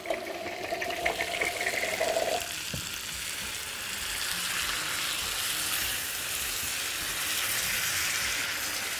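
Garlic parmesan chicken sizzles in a pan, then water is poured in and the frying turns into a loud, steady hiss and bubbling that carries on to the end.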